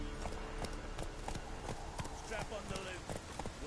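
Horse hooves clip-clop in Witcher 3, a steady trotting rhythm of sharp hoof strikes under game ambience, with a voice speaking briefly over it.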